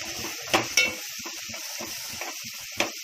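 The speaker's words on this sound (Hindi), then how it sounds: "इसको 2 मिनट प्याज में तलूंगी सोरे को" Dried prawns fry with onion in a pan, giving a soft steady sizzle broken by a few sharp clinks and scrapes of a spoon stirring against the metal.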